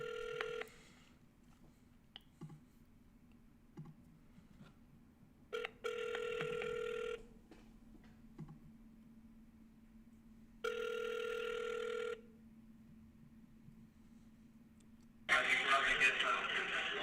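Telephone rings during prank calls, repeated electronic ring bursts separated by quiet hum on the line, ending in a louder harsh burst of noise.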